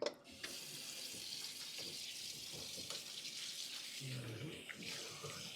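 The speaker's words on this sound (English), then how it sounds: "I'm rinsing it off with fresh water" Running tap water splashes steadily into a sink as raw beef is rinsed of salt water and lime while cooking Jamaican stew peas, a continuous close hiss with shifting splatter toward the end.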